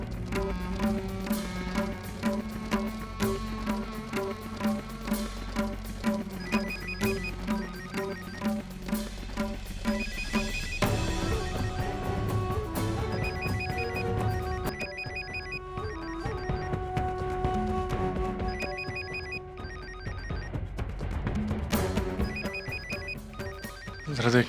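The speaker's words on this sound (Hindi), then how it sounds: "जरा देखना किसका फोन।" A phone ringtone plays a repeating electronic melody, loud and close, continuing for the whole stretch with no voices.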